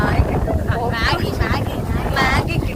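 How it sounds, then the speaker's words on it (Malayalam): Strong wind buffets the microphone at a scenic outdoor spot, a constant low roar under continuous nearby speech. "നല്ല കാറ്റുണ്ട്"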